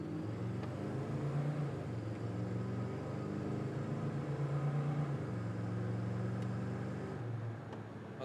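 A 1990 Chevrolet Silverado SS 454 truck accelerates steadily through its gears, a continuous close engine drone with pitch climbing and dropping at shifts, no talk.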